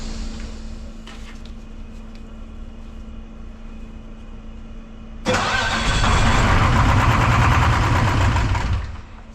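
Detroit 4-53T turbo diesel with a suspected dead injector: a faint hum, then the engine catches abruptly into a loud, rough, rattling run close by for several seconds before easing back.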